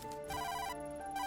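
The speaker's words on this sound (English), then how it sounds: "The phone just kept ringing and ringing." A telephone rings inside a horror video game, a steady electronic ringtone with bright repeating tones that carries on without a break, close and clear, with no talking over it.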